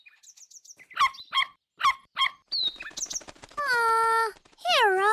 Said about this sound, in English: I really like the sparrow song, Leo.